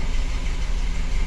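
A boxy Volkswagen Gol idles right after starting while its ignition timing is off, a loud, close, steady engine rumble with a slightly uneven knock.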